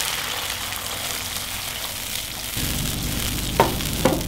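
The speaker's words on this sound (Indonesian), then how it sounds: "saus sambal, kita tambahkan air" Sambal sauce frying in a pan, with a steady sizzle that swells suddenly louder and hissier when water is poured in, then a couple of sharp utensil knocks near the end.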